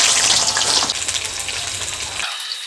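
Pointed gourd dropped into hot mustard oil sets off a loud, dense, crackling sizzle that fills the clip close up, steady and bright, then stops abruptly near the end; no voices.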